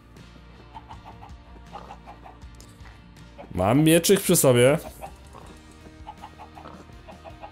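Chickens in the video game Minecraft cluck in a short, loud burst in the middle, while someone talks quietly before and after over faint background game sounds.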